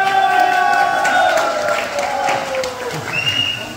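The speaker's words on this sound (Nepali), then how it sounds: "एकचोटि फेरि जोडा ताली" Crowd at a public program in Nepal gives a big round of applause with some cheering and shouting, loud and sustained throughout, with voices calling out above the clapping.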